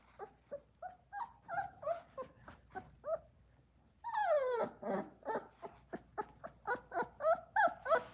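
Boerboel puppies about 25 days old whimper, yip and whine in a steady run of short cries, close and fairly loud, with a louder, longer wail partway through.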